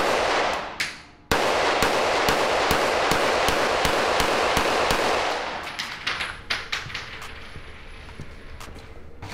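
A brand-new factory firearm fires at a private shooting range: loud, sharp reports in quick succession, rapid at first and then more spaced out, each shot ringing into a dense, noisy tail.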